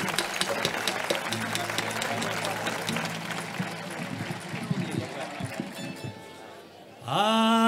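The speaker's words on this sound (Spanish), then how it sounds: "¡Un aplauso!" A crowd claps steadily for several seconds at a summer folk dance festival, dense and fairly loud, with people talking over it; music starts abruptly near the end.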